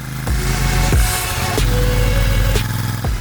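A Royal Enfield Super Meteor 650 motorcycle, a 650 cc twin cruiser, running on the road with a smooth, steady engine drone and several brief rev changes as gears are shifted, heard up close without any talk.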